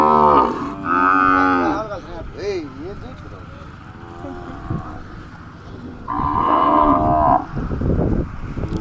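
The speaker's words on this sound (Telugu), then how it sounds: "ఇవైతే ముప్పై ఆవులు" Desi cows on a farm holding about thirty head low in several long, deep moos, with a pair of calls near the start and another around the end, and faint voices in between.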